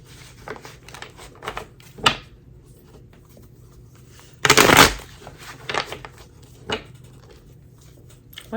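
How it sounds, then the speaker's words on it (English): Tarot card deck being shuffled in several short riffle bursts, with one longer, louder flurry of cards near the middle, close by in a quiet room. "I like to do 13 shuffles with this deck."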